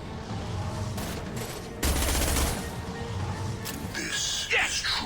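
Gunfire in the video game Mass Effect 2, bursts of shots and a heavy blast around the middle, mixed with game music and effects while someone talks over it throughout.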